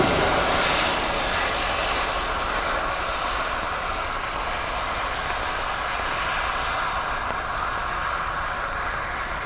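A jet airliner landing on runway 2 left at Dublin Airport on a wet day, a loud broad engine roar that is strongest at first and then eases slightly while holding steady, with no voices.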